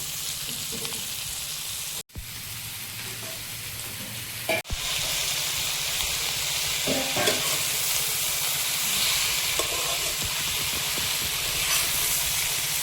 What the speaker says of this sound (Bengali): তেলাকুচের ডাঁটাগুলো দিয়ে একটু নেড়ে নেব।